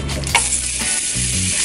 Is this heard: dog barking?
no